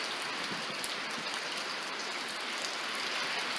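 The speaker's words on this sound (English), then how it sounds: "We're having intermittent sheets of rain, and then it's easing off a little bit." Heavy rain falling in sheets during Hurricane Helene, a dense continuous hiss of downpour outdoors, steady and fairly close with no voices.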